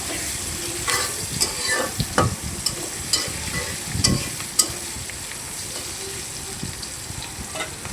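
Food frying and being stirred in a pan, steady sizzling broken by scraping strokes of the spoon at an irregular pace, close and fairly quiet.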